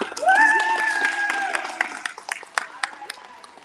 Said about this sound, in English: Let's everybody clap.